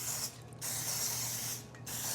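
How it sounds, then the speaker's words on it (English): A can of coconut oil cooking spray hisses onto a baking pan in two long, steady bursts with a short pause between them, loud and close. "I'm gonna use this coconut oil spray, and I'm gonna spray this really, really well."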